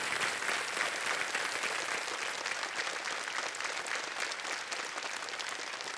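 Studio audience at the Kaun Banega Crorepati quiz show bursts into sustained, dense applause, loud and steady for the whole stretch with no voices over it.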